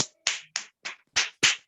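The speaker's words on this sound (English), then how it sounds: "2 finger clap." Two-finger clapping, a series of about seven sharp, light claps close to the microphone in an irregular rhythm, with no talking.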